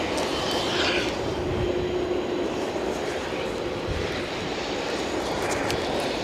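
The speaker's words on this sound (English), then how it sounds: "EasyJet from Stansted coming our way in a jiff." An EasyJet airliner from Stansted approaches Edinburgh Airport in stormy, gusty weather, a broad distant engine rumble mixed with wind noise throughout.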